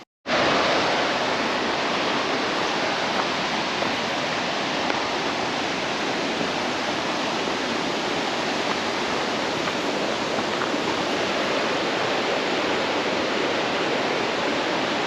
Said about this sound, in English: Waterfalls.